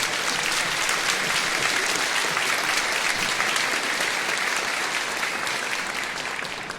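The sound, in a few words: audience round of applause at concert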